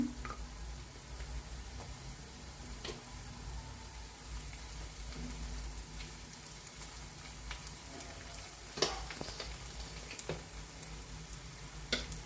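Green chillies go into onions frying in hot oil, a continuous close crackle and sizzle with occasional stirring clicks and a few sharper pops toward the end, no talking.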